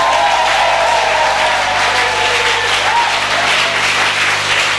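A church congregation applauding, a steady loud wash of many hands clapping together throughout, with faint voices blended into the noise.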